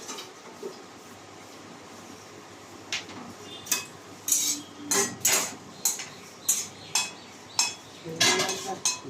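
Dry roasting of spices for sattu in a pan, with a run of sharp spatula scrapes and clinks against the metal at a steady rhythm over a faint background hiss, close by and fairly quiet.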